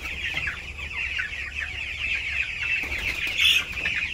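Chickens cluck steadily at close range before feeding, a dense continuous flock chatter with overlapping calls and one louder squawk near the end.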